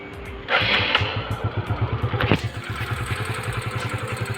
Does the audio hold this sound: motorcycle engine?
yes